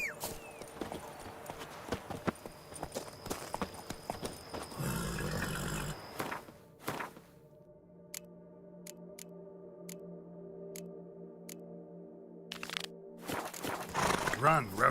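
Roach, Geralt's horse in The Witcher 3: Wild Hunt Blood and Wine, clip-clops along in rhythmic hoofbeats, with a burst of louder galloping midway, while voices and game music play around the steps.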